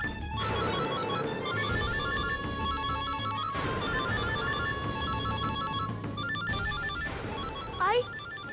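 A telephone rings with a repeated electronic trilling tone in steady bursts, heard over background music with a short rising sweep near the end, and no talking.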